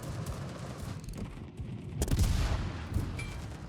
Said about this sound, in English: those rockets hit hard